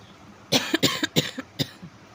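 A short series of about five dry coughs in quick succession, close and moderately loud, with no talking.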